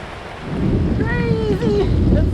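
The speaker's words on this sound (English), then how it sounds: "And it's starting to rain, thunder, lightning." Storm near Cedar Key on Florida's Gulf of Mexico coast, with steady rain and wind roaring against the microphone and a low rumble of thunder; tonal whistling sounds rise briefly over the wash.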